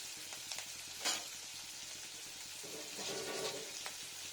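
Spices for chana dal fry in hot oil in a pan, with a steady soft sizzle and a few scraping stirs, one sharper clink early on. It is quiet and close, with no talk.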